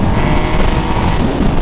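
A Yamaha MT-09 motorcycle rides along a rough, bumpy road, its engine and exhaust droning close and loud with gusts of wind buffeting the microphone.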